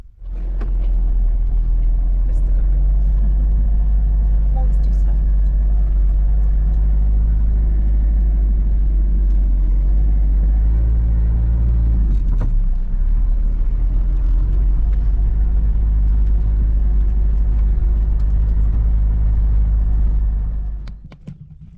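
A two-wheel drive van climbs a gravel mountain road on New Zealand's highest public road in the Nevis valley, heard as a loud, steady low engine rumble from inside the cabin that runs unbroken with no talk.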